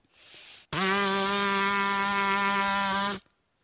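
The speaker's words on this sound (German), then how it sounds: "werden mit dem Luftstrom die Lippen zum Schwingen gebracht" A steady, loud brass-instrument lip buzz without an instrument, held on one pitch for about two and a half seconds, rich and brassy, after a brief softer breathy start.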